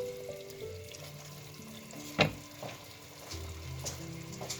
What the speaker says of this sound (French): Donc on laissera mijoter encore un peu